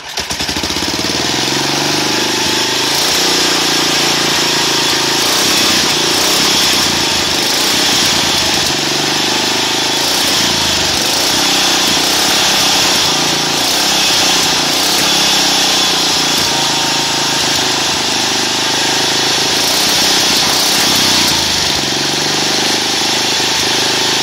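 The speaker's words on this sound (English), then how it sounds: "It's backfiring a little bit" A small engine fitted with a concentric carburetor runs steadily and loud for the full stretch, its rough, choppy exhaust note broken by irregular pops and stutters from occasional backfires.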